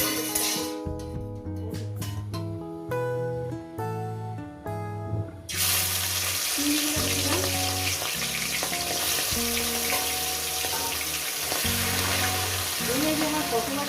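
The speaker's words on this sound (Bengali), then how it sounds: "চিংড়িগুলো আমি ভেজে নেবো" Shrimp frying in hot oil in a wok: a loud, continuous sizzle that starts suddenly about five seconds in and carries on over background music.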